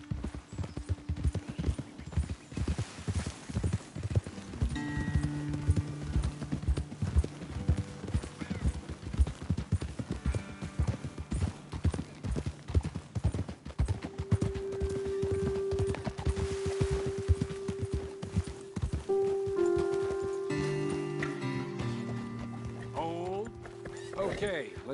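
Horses clip-clop at a steady walking pace on a trail in the Western game Red Dead Redemption II. The hoofbeats stay close and rhythmic while voices talk over them.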